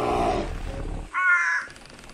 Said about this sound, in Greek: Αυτό ακούγεται σαν αρκούδα.